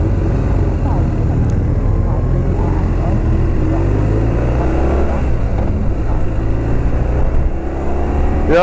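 About ten motorcycles ride past in a group, engines rising and falling as they sweep by on a road, a steady rushing drone with passing swells under a voice.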